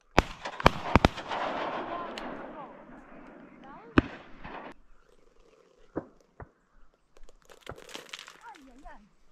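Sharp, spaced cracks from an airsoft gun fired outdoors during an opening-day duck hunt at Summer Lake, Oregon, several loud reports punctuating a busy field soundscape with talk and distant bird calls.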